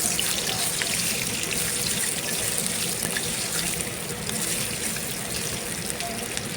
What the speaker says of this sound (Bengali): চুলায় একটা কড়াই বসিয়ে দিলাম তার মধ্যে দিয়ে দিলাম তেল আস্তে আস্তে করে আমি পিঠাগুলাও দিয়ে দিচ্ছি